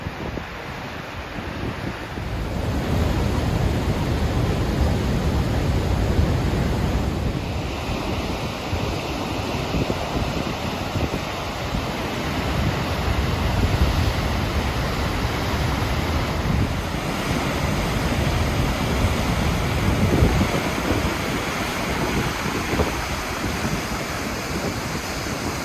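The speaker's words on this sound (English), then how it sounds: "the wind is blowing, so it's super cold here." Strong wind buffets the microphone at Godafoss waterfall in Iceland, a loud continuous roar mixed with the rushing falls, steady and unbroken, with no talking.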